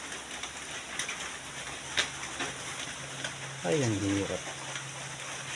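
Rain falls steadily outdoors with a constant hiss and patter on surfaces, while a person speaks briefly over it and a short tonal squeal rises near the end.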